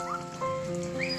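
Steady rain falls in a village, a soft continuous patter across the whole short stretch with faint tonal sounds drifting over it and no talking.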